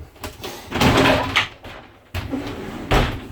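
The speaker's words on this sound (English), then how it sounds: "Doors just slide open." Sliding shower doors in the corner shower of a 2019 Flagstaff Super Lite 524LWSC fifth-wheel RV, rolling open in a couple of short rattling glides with soft knocks, close and moderately loud, no talking.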